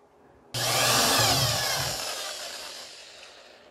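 An electric drill bores holes through pieces for a homemade TV antenna, a loud steady whine starting abruptly and holding for about three seconds, slowly fading as the bit works through, with no talking.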